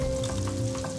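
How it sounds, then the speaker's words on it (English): Zeppole dough frying a few at a time in a pot of oil heated to about 325 to 350 degrees gives a close, steady sizzle and crackle over a faint low hum, with no voices. "You only want to fry a few Zeppole at a time so you don't overcrowd the pot and bring down the temperature of the oil"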